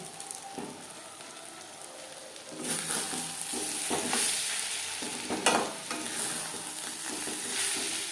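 Fish oil and eggs frying in a pan for a Bengali chorchori with tomato and chopped green chilli, a steady sizzle that grows louder after a few seconds, with occasional scrapes and stirring clatter close by.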